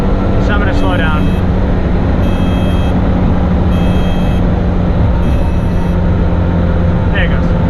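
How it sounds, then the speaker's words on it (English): A 1983 Daihatsu Hijet's small engine drones loudly and steadily at near top speed, heard from inside the cab with road noise, while periodic high alarm beeps chime over it and a voice speaks briefly. "You can hear the engine. We're about topped out."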